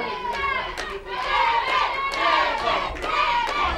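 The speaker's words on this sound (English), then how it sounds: "Listen, the fans cheering for Kevin" Wrestling fans in an arena crowd cheer and shout for Kevin during a tag team match, rising and falling waves of yelling with children's voices mixed in, fairly close and lively.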